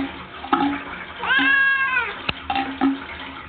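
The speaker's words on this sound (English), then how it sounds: "You look like a short-haired cat, Angel." A short-haired cat meows during a bath, one drawn-out close wail in the middle with shorter cries around it, over splashing and running water.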